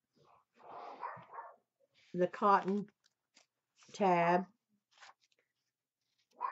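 A dog barks in a quiet room, two loud, harmonic barks a couple of seconds apart, each followed by a shorter yelp. Soft rustling and a few spoken words come before the barks.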